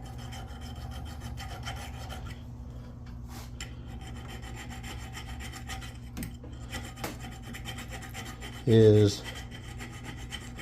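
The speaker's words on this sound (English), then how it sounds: "Let me file off my burr." A metal file rasps a burr off the copper electrode points of a Harbor Freight spot welder in a brief, louder burst of scraping near the end, over a steady low background hum.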